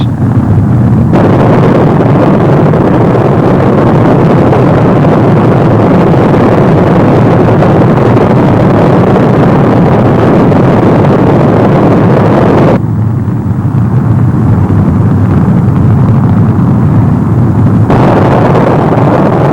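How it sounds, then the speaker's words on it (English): An Atlas launch vehicle carrying an Agena stage ignites its three main engines at liftoff, a loud sustained roar that holds steady for nearly twenty seconds with no talk. "Right on the nose at 10 o'clock Eastern Standard Time, the Atlas launch vehicle ignites."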